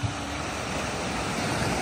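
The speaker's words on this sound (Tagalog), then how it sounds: "Tingnan nyo, lagas-las ng alon" Ocean waves washing over rocks along a rocky shore, with the other side of the beach bare of stones: a steady, close wash of surf with wind across the microphone, continuous and without distinct breaks.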